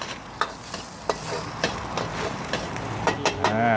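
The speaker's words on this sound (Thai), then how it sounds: "ใส่น้ำมันครับ ใส่ไข่สองฟองนะครับ ผัดให้ไข่แตกได้ที่ก่อนนะครับ" Two eggs stir-fry in hot oil for crab fried rice. A soft sizzle runs under repeated sharp scrapes and clanks of a utensil against the pan, coming at an uneven rhythm.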